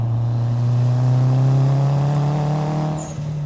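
A 350 hp 3S-GTE powered Toyota AW11 MR2 drives under load, its engine holding a loud, steady drone with strong harmonics close up before easing off near the end.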